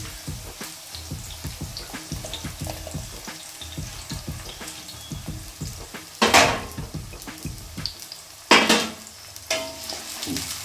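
Spiny gourd (kakoda) pieces sizzle and crackle in hot oil in a pan, a steady close frying hiss broken by a couple of loud bursts as the vegetables are stirred, with no talk.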